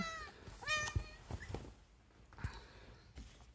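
A pet cat meows indoors in a few short, rising calls, fairly close and moderately loud, between quieter rustles and soft footsteps.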